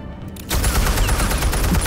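Gunfire in the Batman: Telltale Series video game, a sudden loud burst of rapid shots that bursts out of near silence and keeps crackling densely as a sustained volley.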